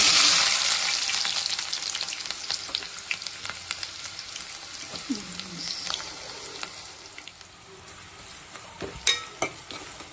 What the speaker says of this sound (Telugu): ఆనియన్స్ బ్రౌన్ కలర్ వచ్చేలాగా ఫ్రై చేసేసుకోండి.